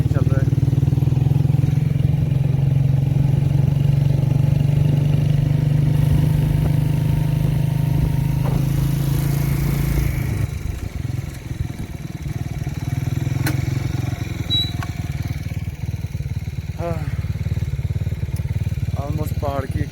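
A motorcycle rides along a dangerous mountain road, its engine droning loudly and steadily close to the mic with rough clatter, the tone shifting midway as it climbs, while a voice speaks over it now and then.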